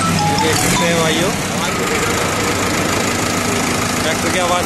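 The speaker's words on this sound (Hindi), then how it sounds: "अभी ट्रैक्टर की आवाज सुनवाएंगे आपको। कर दो जी एक बार स्टार्ट।" A new 2020 Mahindra 575 XP Plus tractor engine runs at a steady idle nearby, a continuous loud diesel rumble with knocking pulses, while people talk over it.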